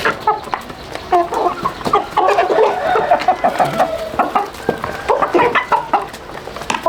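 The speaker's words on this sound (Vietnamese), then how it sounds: "Thêm gà về cho vợ chăm." Chickens on a small farm clucking continuously, several birds overlapping in busy, choppy bursts, loud and close with no talking.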